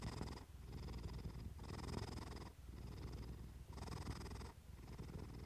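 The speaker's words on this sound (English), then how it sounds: "When a cat curls beside a person and begins to purr" A cat purrs steadily and close up, a low continuous rumble swelling in rhythmic breaths about once a second, with no other sounds.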